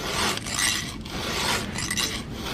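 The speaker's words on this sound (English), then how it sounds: "Now we're all done sharpening the chain." A steady metallic rasping as a file is drawn repeatedly across chainsaw chain teeth to sharpen them, in continuous strokes with brief dips, fairly loud and close.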